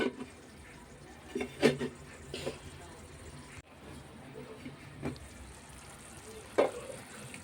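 Stuffed eggplant curry cooking in oil in a pan, a soft steady sizzle with occasional clinks and stirring knocks, while a person talks over it.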